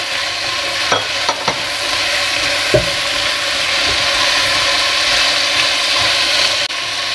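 Finely chopped mushrooms and carrots cook in a frying pan, giving a steady, close sizzle broken by a few sharp scrapes and clicks of stirring, with no voices.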